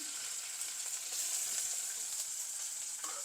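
Garlic, mint, green chilli, curry leaves and onion fry in a pan for an egg curry, making a continuous, even sizzle with a few light pops, with no one talking.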